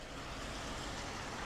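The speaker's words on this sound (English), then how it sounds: "Lots of traffic." Steady broadband wash of passing road traffic, trucks and cars hissing over wet pavement in the rain on a city street near the Tivoli Theater, continuous and moderately loud with no clear individual passes.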